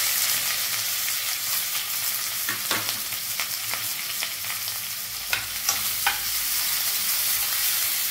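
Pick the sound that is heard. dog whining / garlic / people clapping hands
garlic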